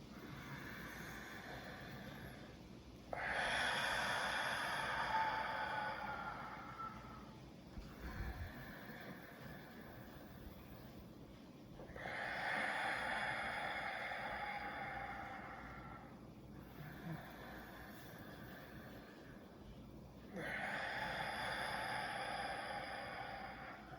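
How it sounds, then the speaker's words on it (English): Slow guided deep breathing, long audible breaths drawn in through the nose and let out through the mouth, in several steady cycles separated by quieter pauses, close and fairly soft, with no speech. "medium deep breaths in through the nose, exhaling through the mouth."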